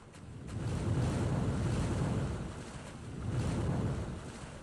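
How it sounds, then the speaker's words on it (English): Ocean tide waves wash along the shore at Hopewell Rocks in New Brunswick, swelling and receding in two broad surges with heavy wind noise buffeting the microphone, no voices. "Twice a day, these tides wash along the shore."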